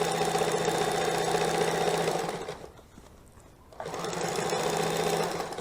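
A sewing machine fitted with a side cutter attachment stitches and trims fabric with a fast, steady mechanical whir. It stops for about a second midway, then runs again at the same close, even pace.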